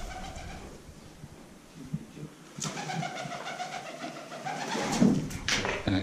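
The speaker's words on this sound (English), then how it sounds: "Fucking pigeons, man." Pigeons coo softly inside an abandoned borstal building, a few low murmuring calls in a hollow, echoing space, with scattered rustles and a louder coo near the end.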